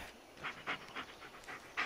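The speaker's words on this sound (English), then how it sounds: "Stop sniffing the floor." A dog sniffing the floor in the woods at night: quick, faint snuffling bursts of breath close by, repeating in an irregular rhythm with no talk.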